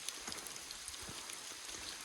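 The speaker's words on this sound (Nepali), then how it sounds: "तर असिना सानो असिना परिरहेको छ।" Small hail falls on a high mountain trek in the Himalaya, a faint, dense patter of tiny ticking impacts spread evenly across the quiet surroundings.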